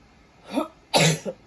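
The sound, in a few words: sneeze or cough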